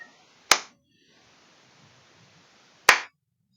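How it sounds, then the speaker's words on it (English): Two sharp, separate hand claps a couple of seconds apart, each loud and crisp with a quick decay, in an otherwise quiet room. "Clap, clap."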